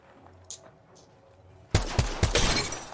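A G7 Scout rifle in Apex Legends during an esports match fires several sharp, loud pops close together after a quiet stretch of low hum.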